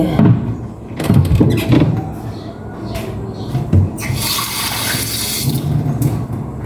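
Water pours and splashes into a container holding a mixture with vinegar for several seconds, with clattering kitchen knocks and handling noises around it.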